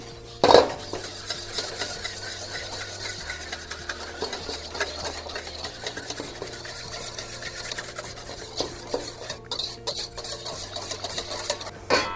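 Curry powder and seasoning are stirred into a turkey egg foo young mixture, with repeated scraping, rubbing and clinking of a utensil against a bowl at close range and no talk.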